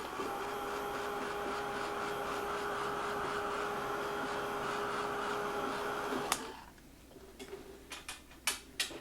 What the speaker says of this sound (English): I'm going to give it a quick dry with my heat gun